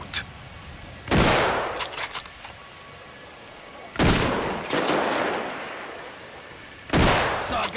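Three loud, sharp gunshots from GTA 5, spaced a few seconds apart, each trailing into a short echoing decay over quiet background.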